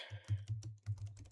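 Quiet typing on a computer keyboard while notes are taken in a radio studio during a break, heard as scattered soft clicks and short bursts of keystrokes close by, with no talking.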